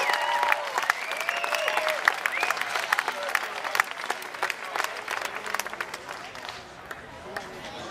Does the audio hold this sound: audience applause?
yes